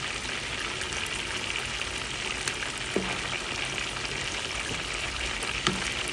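Chicken wings fry in hot oil with a steady, close crackling sizzle. A couple of soft clinks sound over it and no one speaks.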